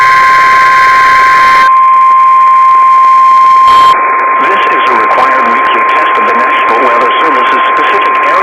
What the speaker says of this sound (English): This concludes the weekly test of the NOAA Weather Radio Alert Systems.